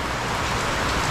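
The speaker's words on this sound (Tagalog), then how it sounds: "umulan na naman dito" Steady rain pattering on surfaces in a copra-buying area, a dense, even hiss of drops that stays fairly loud and constant with no voices.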